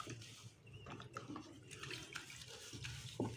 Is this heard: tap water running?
yes